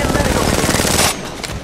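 Rapid automatic gunfire from a firearm in the Apex Legends Mobile game, a loud, dense burst of shots rattling for about a second before cutting off abruptly, with faint game sounds trailing after.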